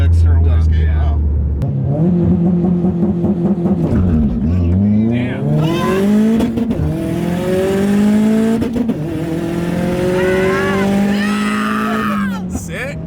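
A modified Subaru with an external wastegate revs hard and loud, climbing repeatedly through the rev range with rising engine pitch and sharp bursts, while people talk over it.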